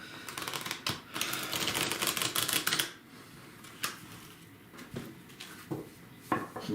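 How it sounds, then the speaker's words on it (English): Rapid papery riffling of tarot cards being shuffled up close, a quick burst of flicks followed by quieter taps and soft card handling. "every time I shuffle the cards"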